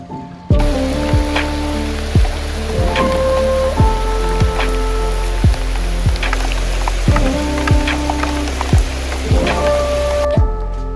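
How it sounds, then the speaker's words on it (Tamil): Heavy monsoon rain in Kerala's Ambanad hills, a dense steady hiss of rainfall on surfaces, overlaid by a repeating electronic tone pattern with descending pitch sweeps throughout. "நல்ல மழை."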